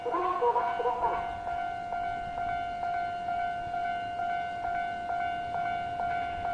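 Upbound train on the Tohoku Main Line passing a talking level crossing between Higashi-Sendai and Sendai, steady two-tone crossing bell ringing throughout, rhythmic wheel clacks and a rumble under it, with a brief louder burst at the start.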